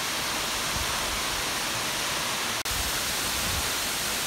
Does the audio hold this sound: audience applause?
no